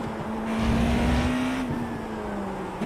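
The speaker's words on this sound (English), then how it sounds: "I love loud race cars." A loud race car engine in the iRacing simulator drones at high revs with a steady tone, swelling briefly as it accelerates and then easing slightly.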